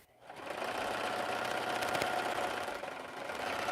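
A quilting sewing machine starts up and runs at a steady speed, a close, even mechanical whir with rapid needle chatter, needing oil.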